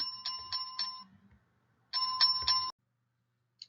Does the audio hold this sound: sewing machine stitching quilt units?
no